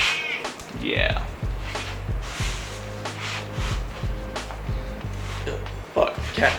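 A pet cat meows several times indoors, its cries mixed with snorts and soft chatter from a person nearby, loud and close between quieter pauses.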